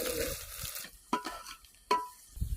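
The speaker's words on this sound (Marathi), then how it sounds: "आपल्याला चांगला लालसर होईपर्यंत परतून घ्यायचा आहे" Chopped onion in oil sautés in a pot on a wood-fired clay stove, with a soft sizzle broken by two sharp scraping stirs of a spoon against the pot.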